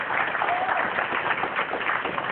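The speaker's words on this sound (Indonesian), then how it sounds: "Silakan tepuk tangan sekali lagi dong untuk Mbak Pia dong." Studio audience clapping for a guest on a Metro TV talk show, a dense, steady, slightly muffled wash of applause with faint voices mixed in.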